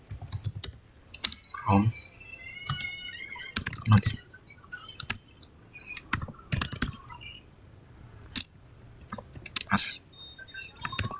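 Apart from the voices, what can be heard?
typing on a computer keyboard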